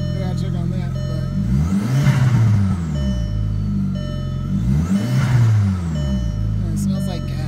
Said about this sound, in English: Sounds like there's an exhaust leak.